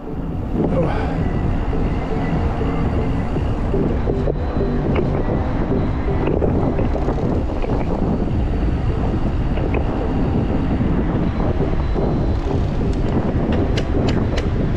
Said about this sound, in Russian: Ветер, ну ветер теплый